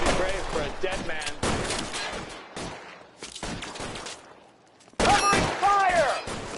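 Gunfire in the video game L.A. Noire: rapid bursts of shots crackle in dense volleys, loud and near, with a brief lull before a heavy new barrage.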